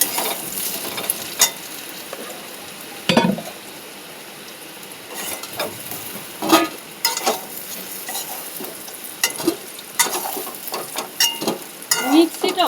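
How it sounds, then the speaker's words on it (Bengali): Potatoes fry in hot oil in a home kitchen, giving a steady low sizzle broken by repeated sharp scraping and stirring clatters from a spatula. A voice speaks briefly in between. "আলু ভাজা হয়ে গেছে, দেখুন লাল লাল হয়ে গেছে"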